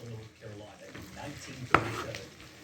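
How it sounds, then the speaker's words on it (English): Chopped onions go into a pan where garlic has been cooking, setting off a soft sizzle with stirring and a sharp clink of a utensil against the pan, while a person talks quietly. "Gonna drop my onions in now. Garlic's been cooking for a couple of minutes"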